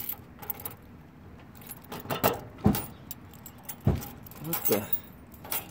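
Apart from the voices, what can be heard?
tryout keys jangling in a lift ignition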